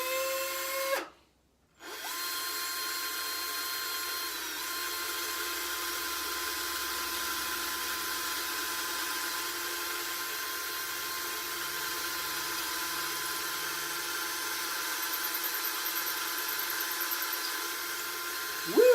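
A hand-held tool bores wood out of the inside of an old Sinclair bagpipe chanter, making a steady, close whirring drone that cuts out briefly near the start and then runs on unbroken.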